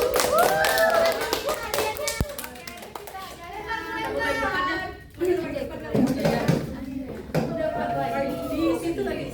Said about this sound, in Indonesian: Tepuk untuk kita.